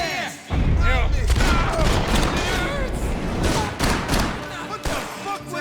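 Sustained gunfire in the video game Max Payne 3, a dense loud fusillade of rapid shots and booms that runs almost without a break, with shouting voices mixed in among the blasts.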